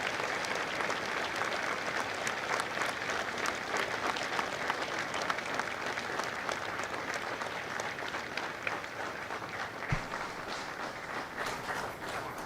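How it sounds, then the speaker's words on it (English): Long, sustained applause from the crowd at a Marine Corps recruit graduation for Fox Company at MCRD San Diego, steady and distant-sounding with crisp individual claps throughout. "Ladies and gentlemen, a round of applause for their dedicated service to Corps and country."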